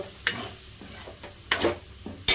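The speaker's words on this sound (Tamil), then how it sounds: "போட்டு லைட்டா வதக்கிக்கலாம் சிம்ல வச்சு" Chili powder sautéing in oil over a low flame, a faint sizzle with a few sharp spatula taps and scrapes against the pan, close by and with no talking.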